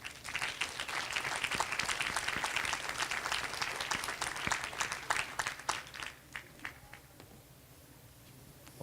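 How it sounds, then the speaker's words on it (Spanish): Sustained audience applause at a book fair literary event, a dense steady wash of clapping that gradually breaks up into scattered claps toward the end. "Lo recibimos con fuertes aplausos."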